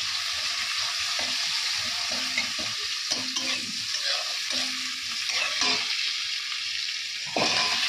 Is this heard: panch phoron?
yes